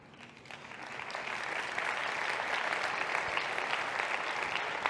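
Applause from a conference audience swells and holds steady, a dense wash of clapping filling the room for several seconds.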